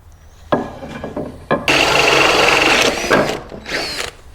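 A big hole drilled freehand into a wooden dart board cabinet: a few short knocks and bursts, then a loud sustained grinding drill run of over a second, followed by shorter drilling bursts, close up with no speech.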